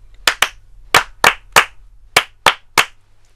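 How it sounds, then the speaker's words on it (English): Hands clap a rhythm in a music lesson, eight sharp, close claps arranged in long-short-short groupings with clear silence between them, alone and with no talk. "Clap the rhythm."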